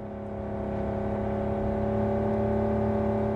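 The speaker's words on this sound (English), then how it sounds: "Drive, Jackie, just drive" Car engine in Cyberpunk 2077 droning steadily and building slightly as the vehicle pulls away, a smooth whirring hum with no talk.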